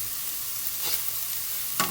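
Hard vegetables stir-frying in a pan give a steady, close sizzle, with a couple of brief stirring scrapes breaking through near the end and no one talking.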